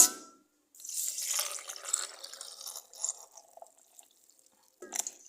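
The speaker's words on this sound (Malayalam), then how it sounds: "ഇതിലേക്ക് കുറച്ച് പാൽ ഒഴിച്ചു കൊടുക്കാം" Milk is poured into an avocado shake in a short, fairly quiet pour that trickles and splashes for a few seconds, then tapers into scattered drips with one last small splash.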